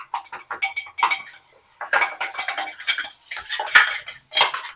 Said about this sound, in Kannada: ಚಿಕನ್ ಪೀಸ್ ಕಟ್ ಮಾಡೋದು ದೊಡ್ಡ ಕಟ್ ಮಾಡಿ ನಾನು ನೋಡಿದೆ.